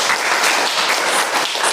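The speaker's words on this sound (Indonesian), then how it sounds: "Kita tepuk tangan untuk mereka dulu." Short, brisk classroom applause after a student presentation, many hands clapping together at close range, steady and fairly loud for under two seconds.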